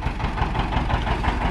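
A John Deere 70 diesel tractor idles close by, a steady, throbbing low rumble with faint knocking and no voices.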